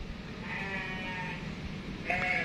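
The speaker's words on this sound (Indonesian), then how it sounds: "Tuh ada kambing tuh sebelah." A goat bleats nearby at a barbershop, a wavering tonal cry over steady background noise, followed by a second shorter bleat near the end.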